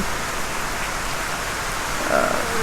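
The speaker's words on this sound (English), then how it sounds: "It's raining nicely outside. You can probably see the rain bouncing off my pickup in the back" Steady rain falling outside during a passing storm in Mississippi, drumming on a pickup truck, a dense even hiss that swells slightly near the end, with no voices.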